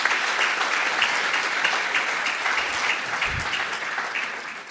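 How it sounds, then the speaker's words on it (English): Sustained applause from a forum audience for award winners at a main-stage conference session, a dense steady wash of many hands clapping throughout with no talk over it. "a big round of applause for all these winners"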